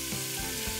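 Chicken fries in a pan as black pepper is added, giving a dense, continuous close-up sizzle with faint crackles throughout the short moment.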